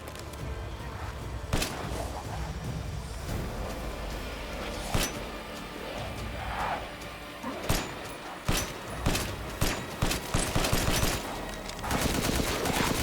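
Pistol gunfire in Resident Evil Village comes as repeated loud shots, some spaced and some in quick bursts, over a dense, rumbling game background.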